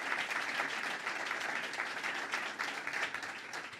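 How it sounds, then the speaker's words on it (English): Dense, steady applause rolls through the crowd at the dedication of a children's museum, honoring the team behind it, fairly even in volume and with no voices over it. "Let's give them a big round of applause for what they made happen."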